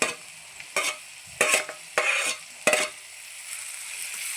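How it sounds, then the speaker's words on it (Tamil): A fish podimas mixture with carrot and tomato fries in oil, with a continuous low sizzle broken by four loud, sharp scraping stirs spaced about half a second apart, close by and without talk. "எண்ணெயில் வந்து இப்போ வதக்காகுது"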